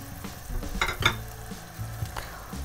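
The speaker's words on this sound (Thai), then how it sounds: "เอาน้ำพริกเผาใส่แล้วก็คนให้แตกปล่อยไว้สักพักหนึ่ง" Roasted chili paste is stirred into a pot of Tom Yam soup, with soft scraping and clinks against the pot over a steady bubbling, simmering background, and no voices.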